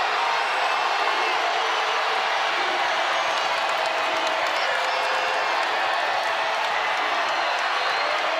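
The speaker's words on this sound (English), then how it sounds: "And this crowd getting involved" Women's college basketball arena crowd, BYU hosting Utah, cheering in a continuous loud roar with scattered clapping and whoops, dense and sustained from start to finish.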